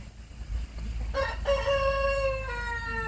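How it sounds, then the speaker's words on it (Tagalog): A backyard rooster crows loudly nearby, a long drawn-out call, with a low rumble of wind underneath. "Kita nyo ang ating mga alagang manok yan."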